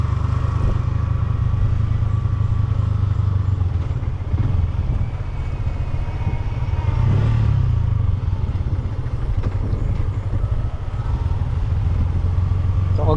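A Sniper 150 motorcycle engine runs steadily while descending a downhill road, a loud continuous low hum with clattering road noise over the whole stretch, with no talk.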